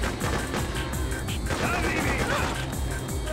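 Gunfire in an NES video game, rapid bursts of chiptune shots with crashes and blasts, sounding as repeated sharp hits over a busy game soundtrack.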